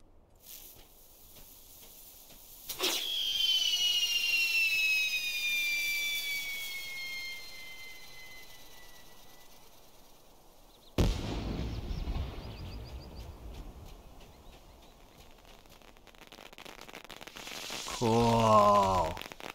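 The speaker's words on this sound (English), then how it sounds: "And what's this? Dragon fireworks." Dragon fireworks in the video game LOTRO start with a sudden whoosh and a long whistling tone that slowly falls, then a loud crackling burst and later another rising whine. A voice talks in between.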